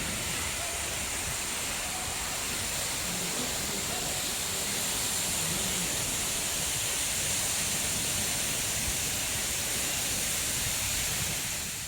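Sedudo waterfall in Nganjuk pours in a steady, even roar of falling water, a dense hiss that holds constant and fairly loud the whole time with no voices.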